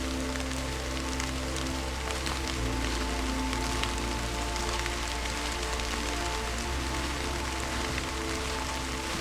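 Rain falls steadily on an artist etching outdoors under a poncho, a dense even hiss with a low rumble beneath, constant throughout with no voices.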